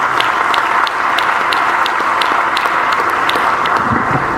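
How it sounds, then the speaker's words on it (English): Sustained round of applause from a hall audience at a closing ceremony, loud and continuous, with a few sharper individual claps standing out at a fairly regular pulse. "please give her a round of applause."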